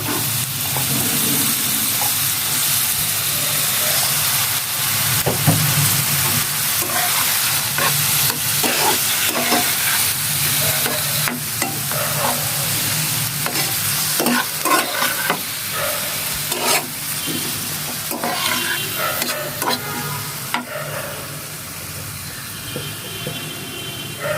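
Tomatoes fry in a pan for Bangladeshi shakshuka, giving a continuous close sizzle broken by repeated scraping and clattering spatula strokes, with no voices.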